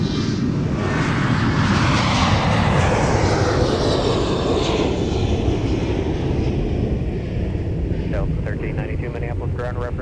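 Jet airliner departing MSP airport at sunset, a loud, steady roar of engines sustained throughout as the plane climbs away, with brief faint talk near the end.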